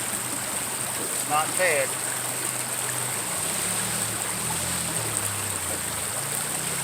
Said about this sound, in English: Sluice is not set optimally.